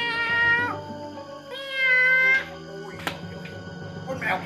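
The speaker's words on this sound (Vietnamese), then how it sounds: "Con mèo kia, mày bị ngộ à?" A cat meows loudly and repeatedly at night, with two long drawn-out wails close by and a shorter cry at the end, over a low background hum.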